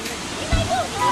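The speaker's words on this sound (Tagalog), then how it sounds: "So now I'm in the falls" Rushing water from the waterfall at Danlag Falls, heard from close range as a steady, broad roar with a voice talking over it.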